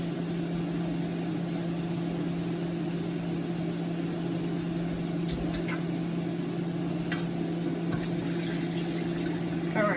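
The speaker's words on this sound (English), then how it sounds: "let me just add some more water" Water poured into a pot for a home seafood boil, a steady hissing, splashing stream with a constant low hum beneath, continuous and fairly close, with a few brief clinks later on.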